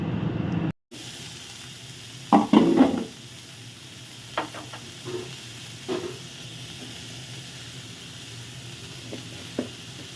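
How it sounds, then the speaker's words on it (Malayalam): Mustard seeds are tempered with a ground coconut paste in a Kerala home kitchen. A quiet, steady hiss runs underneath, with a brief louder burst of sizzling and scattered faint crackles and pops. "എന്നിട്ട് അരപ്പ് ഒഴിച്ച് കടുക് താളിച്ചെടുക്കാം."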